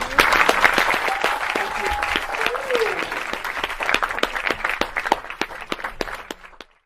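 Audience applause and cheering erupt after a song performance at a live lounge show, a dense steady wash of clapping that holds strong and then thins out toward the end.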